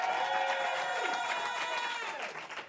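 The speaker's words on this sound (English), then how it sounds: "Let's give our leader another round of applause" Applause and cheering from an audience at a political rally in Washington, DC, a dense steady wash of clapping that holds for a few seconds, then starts thinning out.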